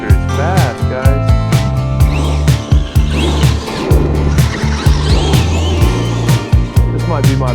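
A Traxxas X-Maxx RC monster truck, rebuilt with a Hobbywing Max6 8S ESC, drives fast close by, its motor whining loudly and steadily, rising and dipping with repeated throttle bursts and tire scrabbling throughout.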